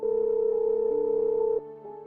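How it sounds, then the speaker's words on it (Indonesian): A mobile phone rings from inside Pak Rahman's pocket, a steady electronic tone holding for about a second and a half before shifting to a softer, lower tone, loud and with no talk over it. "tiba-tiba suara dering handphone terdengar dari saku Pak Rahman"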